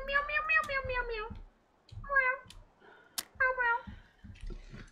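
A person's voice imitates a cat, giving several drawn-out, wavering meows in separate bursts with short pauses between them, fairly close and moderately loud.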